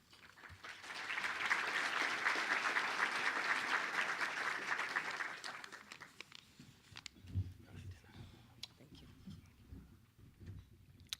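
A breakfast audience bursts into warm applause as the Consul General of Israel to New England is welcomed to the podium. The clapping builds and holds for about five seconds, then dies away into scattered claps and murmuring.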